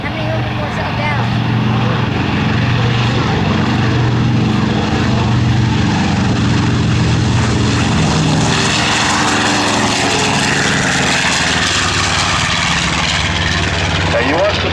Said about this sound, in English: B-25D to the Yankee Air Museum on the takeoff roll